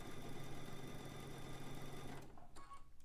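Sewing machine running steadily to finish a loose quilt seam, a continuous close mechanical whir that stops abruptly, followed by a few faint handling clicks.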